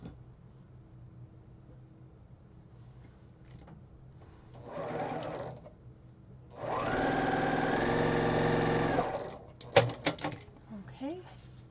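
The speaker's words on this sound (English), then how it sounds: "And then sew these two to the bottom, except I have to do one at a time because these ones overlap" A sewing machine stitches quilt pieces together in a fabric studio, its steady mechanical whir running for a few seconds after a shorter burst, with quiet talk and handling noises around it.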